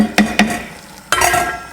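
A spoon scrapes and clinks against a pot of vegan soup, with two quick knocks followed by a longer stirring swirl, close and fairly loud, with no voices.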